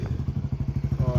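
A motorcycle engine idles up close, its low exhaust thumping in a steady, fast rhythm with slight clatter, and a voice is heard faintly near the end.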